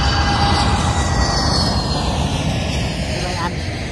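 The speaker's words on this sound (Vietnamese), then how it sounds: "Máy bay xuống tiếp." Airplane descending to land overhead, a loud, continuous roaring engine rumble with a broad high whine, close and steady throughout, while people chat faintly nearby.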